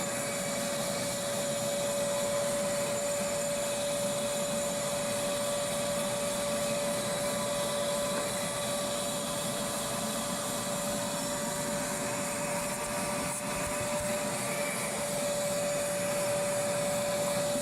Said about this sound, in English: She doesn't like the stand-up vacuum upstairs.